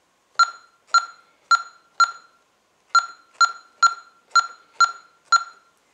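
Keypad tones on a Honeywell Vista alarm panel as a phone number is entered, ten short, clean beeps in two groups, evenly spaced and close, with no talking.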